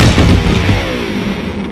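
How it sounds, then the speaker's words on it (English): An electric guitar thrown from a 20-story building crashes into the ground with a loud, booming impact, and resonant rumbling decays over nearly two seconds, heard alone. "An electric guitar."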